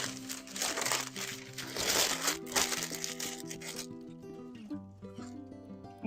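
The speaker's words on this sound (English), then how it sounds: "It's going to make a crinkle crinkle." White paper is crumpled close to the microphone, dense crackling crinkles for several seconds that thin out toward the end, with a steady tonal hum under them.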